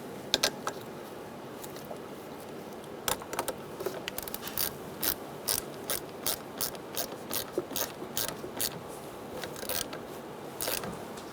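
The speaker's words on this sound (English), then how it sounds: "I'm going to connect our negative battery terminal, push it down all the way, get a 10mm socket." A 10mm socket ratchet tightens the negative battery terminal on a 2010-2013 Kia Soul 2.0L. Close, crisp ratcheting clicks come in rapid bursts in a steady back-and-forth rhythm, with no talking.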